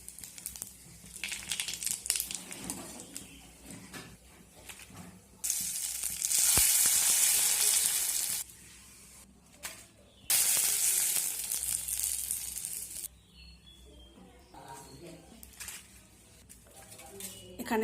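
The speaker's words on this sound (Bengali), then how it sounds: "এখন আমি এর মধ্যে পাঁপড়গুলো ভেজে নেব।" Sago papads deep-frying in hot oil in a kadai, loud bursts of bubbling sizzle that flare up in waves, each surge lasting a few seconds before easing back to a quieter crackle.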